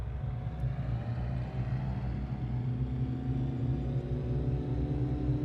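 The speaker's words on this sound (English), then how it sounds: "That engine growl as you throttle up sounds amazing." Twin piston engines of a Cessna 414 in the Microsoft Flight Simulator 2020 game throttling up for takeoff: a steady, deep, loud growl and rumble with layered drone, continuous and without talk.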